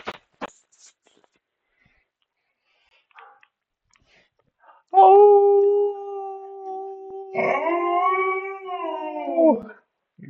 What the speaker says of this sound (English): Oh! You damn dog.